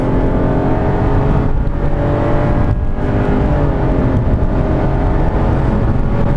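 A 2016 Subaru Outback 3.6R with a CVT accelerates hard, its engine a loud, continuous drone broken by two brief dips as the transmission shifts.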